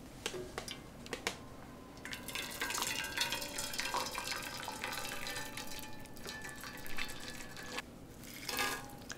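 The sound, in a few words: pouring water into jjamppong instant noodles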